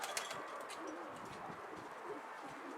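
Pigeons being flown outdoors, heard as soft cooing and faint chirps against a hiss of open-air ambience, with a few light flutters of wings; the birds sound moderately distant and quiet throughout.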